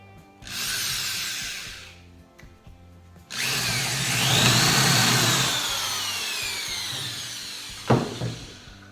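A circular saw (Skil saw) whines up and cuts through wood during workbench construction: a short loud burst, then a longer sustained cut with a shifting blade pitch, followed by a clunk.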